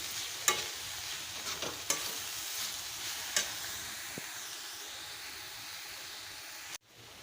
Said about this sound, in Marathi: आता हे व्यवस्थित हे परतून घेते